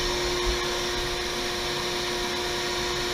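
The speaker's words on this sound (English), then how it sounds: "I then turn my shop vac on." A shop vac runs with a steady, dense roar alongside an electric sander, the noise constant and loud throughout with no pauses and no voices.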